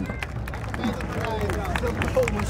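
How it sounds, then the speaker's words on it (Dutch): Crowd clapping and cheering at a car show after-party, dense and continuous with a hubbub of voices mixed in, the applause fairly loud and close throughout. "geef een applaus, Doek Design!"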